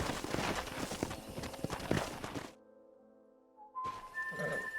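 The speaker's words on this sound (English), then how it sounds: "We got some fine horses." Horses' hooves clip-clop steadily in Red Dead Redemption, close and busy with thumps, breaking off into a steady low hum before resuming with a faint whistle-like tone.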